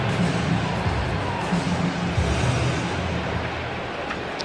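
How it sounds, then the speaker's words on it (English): A sellout baseball crowd at the Rogers Centre in Toronto fills the stadium with a steady, dense murmur of thousands of voices, a constant wash of noise with faint rises of cheering. "Sellout crowd on hand at the Rogers Center in Toronto."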